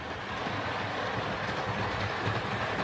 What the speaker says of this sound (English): As it comes down the track, it's got a slight wobble from side to side